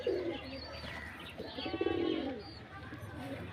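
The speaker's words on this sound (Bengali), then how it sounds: "এই দেখো নতুন পায়রা এই পায়রাটা।" A pigeon coos in short low bursts, a newly caught bird held close, with a faint chirp and light background noise around it.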